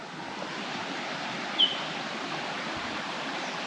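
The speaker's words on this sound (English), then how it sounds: "Waterfall." A waterfall in the Daintree Rainforest pours steadily, a soft even rush of falling water heard alone at a distance without any voices.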